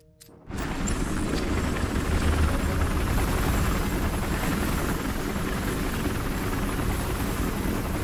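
A helicopter in the video game Battlefield Hardline starts up after a brief quiet moment and then runs as a loud, steady, close rotor and engine roar to the end, with no talk.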